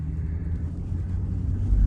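A car drives along smoothly with a steady low engine and road rumble close by, continuous and even with no talking.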